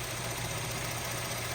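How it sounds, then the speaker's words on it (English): A 2014 Buick Enclave's 3.6-liter V6 idles smoothly under the open hood, a steady low hum with a constant level and no voices. "V6 engine."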